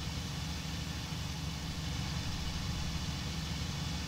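Piston aircraft engine from the IL-2 Sturmovik: Cliffs of Dover flight sim, running hot during a dogfight; a steady low droning roar holds at constant pitch and level throughout, with no voices.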